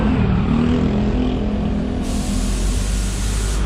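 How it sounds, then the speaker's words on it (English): Road traffic rushes past on a street in Taipa, Macau, a loud continuous vehicle roar with a brighter hiss joining partway through, close and steady. "So all that traffic is going to go down that way."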